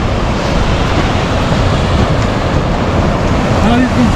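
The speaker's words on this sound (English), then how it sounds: "Now you can see the water flow." River water rushes through Hunza Valley in Pakistan, a loud, dense, unbroken roar heard close by, with wind buffeting the microphone throughout.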